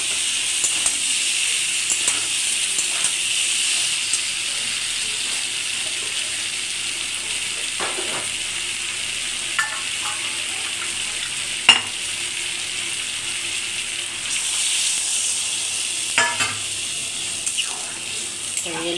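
Vegetables stirred into spiced oil in a pan: a steady, fairly faint frying hiss continues throughout, broken by scattered stirring scrapes and a sharp clank of the utensil.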